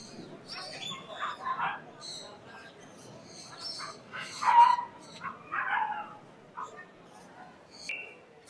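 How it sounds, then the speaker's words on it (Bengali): Parrots such as sun conures, lories and ringneck parakeets call in a zoo aviary with scattered squawks and chirps near and far, while someone talks over them. "কিছু পাখি উঠছে"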